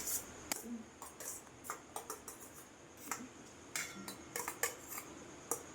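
Green chillies and curry leaves are stirred into eggs in a bowl, a quick string of small clinks and taps from a spoon against the bowl, close and fairly soft, with a faint voice now and then.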